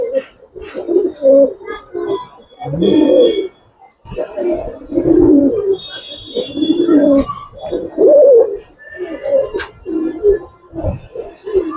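Colored Giribaj and silver pigeons coo in a steady series of low, throaty, rolling calls, several birds overlapping at close range, with a few faint chirps and no talking.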